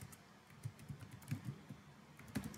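Quiet keystrokes on a computer keyboard entering a search in a browser, a few irregular soft clicks and short bursts over about two and a half seconds, close and alone.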